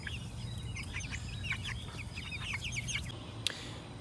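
Chickens cluck and chirp close by in a run, with repeated short calls over a low steady background hum and no talking.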